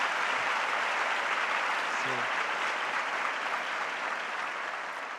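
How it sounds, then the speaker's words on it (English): Sustained applause from an audience at an Onam celebration during a world cultural festival, a steady, dense wash of clapping that fades slightly toward the end. "So big round of applause to"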